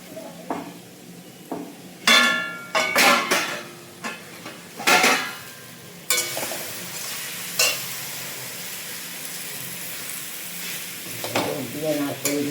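A spoon stirs jaggery and coconut in a sizzling pan while Bengali pithe are being made, giving scraping strokes and clinks over a steady frying hiss.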